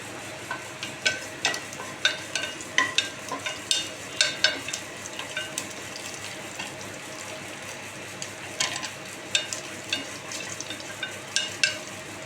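A curry with curry leaves is stirred in a pan over medium heat, with repeated rhythmic scrapes and clacks of the spoon over a soft, steady sizzle.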